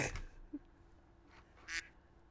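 A duck outdoors gives a few faint, distant quacks, with a short one near the start and a clearer burst toward the end, over quiet background hiss.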